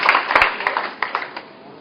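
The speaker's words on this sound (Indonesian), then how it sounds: "Dengan tepuk tangan sekali lagi bagi Tuhan kita, saudara." A church congregation at a GBI Rahmat Immanuel service applauds, a short burst of steady clapping that quickly fades out.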